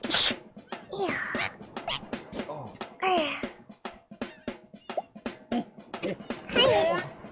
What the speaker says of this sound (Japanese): くしゃみでしょ。